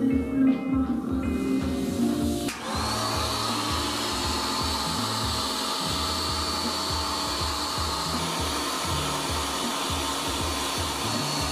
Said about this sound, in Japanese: トリートメントつけて乾かします